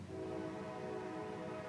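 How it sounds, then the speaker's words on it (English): A train rolls past, its steady broad rumble and low hum holding level and fairly near throughout, with no clear horn blast standing out. "Look, choo-choo train."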